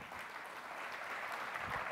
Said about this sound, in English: Round of applause for this man.